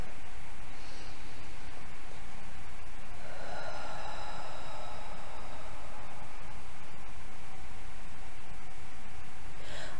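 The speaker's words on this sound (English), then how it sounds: "Take a nice deep breath in and out." A slow, deep breath drawn in and let out during a calm relaxation exercise, a soft airy rush of inhale and exhale heard alone against steady background hiss.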